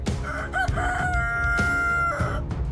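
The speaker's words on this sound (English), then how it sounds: "if you heard that rooster crow, you know it's time to wake up" A loud rooster crows one long, drawn-out cock-a-doodle-doo, close and clear, with no talking over it; a Minecraft game sound.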